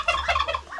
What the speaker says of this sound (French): Le dindon.